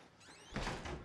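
A door closes with a low thud inside the Outlast horror video game, the impact loud and broad after a quieter stretch of faint ambient noise, with a brief rumble trailing off.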